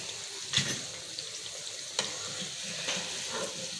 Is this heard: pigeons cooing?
no